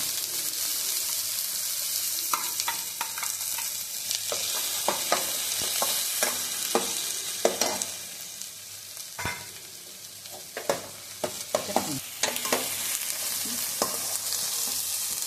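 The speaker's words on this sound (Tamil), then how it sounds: "வெங்காயம் போட்டு வதக்கிக்கோங்க" Two onions sautéing in a pan for a chickpea and radish curry, with a steady sizzle broken by frequent scraping strokes of a spoon as they are stirred.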